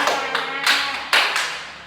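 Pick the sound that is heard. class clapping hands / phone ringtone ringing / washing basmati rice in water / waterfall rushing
class clapping hands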